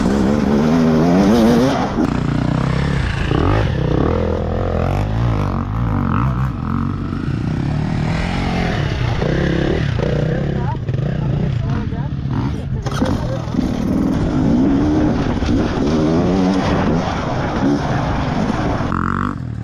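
An enduro motorcycle engine drones and revs continuously nearby during hard enduro riding training, rising and falling in pitch, with people talking over it.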